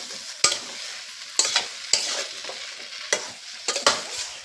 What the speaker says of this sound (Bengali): আর এখানে দিয়ে দেব অল্প করে লবণ, দিয়ে আবারও ভালো করে কষিয়ে নেব।